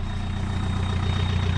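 A VW Golf 3 GT 110 engine idles just after being restarted, a steady low rumbling drone with even pulsing, close and continuous.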